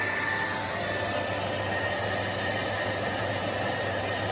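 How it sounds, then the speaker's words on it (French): A hair dryer runs continuously at a steady pitch, a loud, even whooshing hum with no change across the whole stretch. "je vais être obligé de faire un peu de bruit. Donc je vais prendre de sèche-cheveux en plus"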